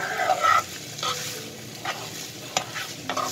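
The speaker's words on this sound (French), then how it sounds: "vous tournez sans arrêt pour que ça brûle pas" Rice vermicelli is stirred continuously as it fries in a pan, with a steady sizzle broken by scraping strokes and a few sharp utensil taps, close and fairly quiet.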